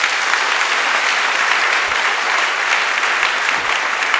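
Steady applause from an audience during a church news broadcast, continuous clapping that holds evenly for several seconds with no voices over it.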